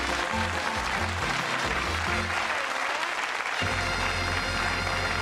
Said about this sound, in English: Make them a nice round of applause.